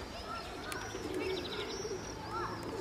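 Young pigeons coo softly in repeated throaty phrases close by, with a few chirps and faint background noise.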